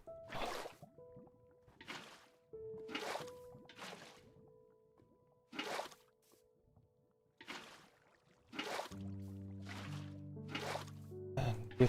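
Minecraft water from a water bucket, heard as repeated short splashing and sloshing bursts with quiet gaps, alongside soft game music tones.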